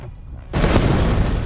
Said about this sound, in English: Because of the tamping effect of the water, the bang isn't as loud as it would have been on land.